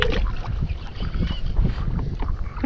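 A small boat is rowed on Malayadi reservoir in Ampara, with water sloshing and paddle strokes under heavy, rumbling wind buffeting the microphone throughout.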